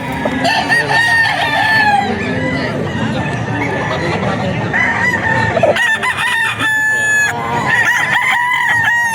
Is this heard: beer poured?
no